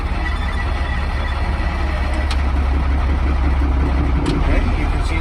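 A tractor-trailer truck engine in first gear with the brakes holding, giving a steady, loud, low idling rumble throughout, with faint clicks and hiss above it.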